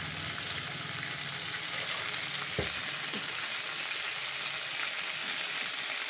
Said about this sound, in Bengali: ফোড়নে গোটা জিরে এবং তেজপাতা ফোড়ন দিয়ে নিচ্ছি